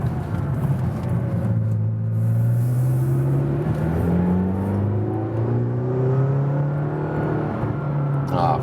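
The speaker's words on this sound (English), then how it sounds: "now a little agile driving up the hill" McLaren GT sports car accelerating uphill, its engine note rising in steady sweeping pitch climbs as it pulls hard, a continuous close rumble and whir with no talk over it.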